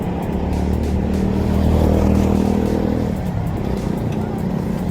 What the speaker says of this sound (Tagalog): ang dami ng sasakyan